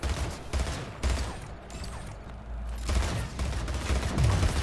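Rapid bursts of gunfire crackle in a Splitgate match, several volleys of sharp shots separated by short pauses, loud and close.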